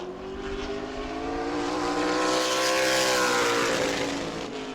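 A modified race car roars past on the oval at New Smyrna, its engine note swelling loud and close then easing slightly as it slides through turn four, with no talk over it.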